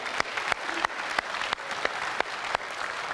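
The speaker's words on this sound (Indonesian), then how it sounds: "Boleh tepuk tangan untuk memulai di segmen ini?" Studio audience at a televised Indonesian presidential debate applauds, a dense burst of clapping with a few sharper individual claps standing out, fairly close and even throughout.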